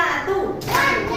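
Young children in a classroom clapping together in a single chant-led clap, a short soft burst of hands amid light chatter, fairly close.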